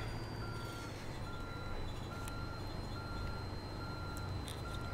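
A truck backing up to park in American Truck Simulator sounds a regular series of thin reversing beeps, quiet and steady over a constant low engine rumble.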